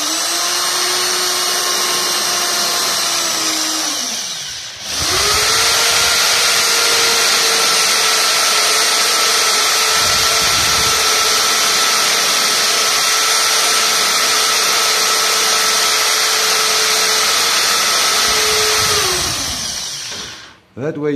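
Power drill spinning a wooden dowel as a makeshift wood lathe, with a carpet knife cutting the turning wood. The motor whines steadily and loudly for about twenty seconds, with a brief dip and restart near the beginning and a spin-down at the end.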